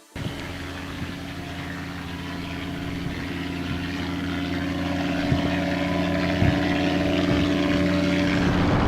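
Motorized ultralight aircraft used for park surveillance in Comoé National Park, Côte d'Ivoire, its propeller engine droning steadily and growing slightly louder and nearer throughout, with no talking.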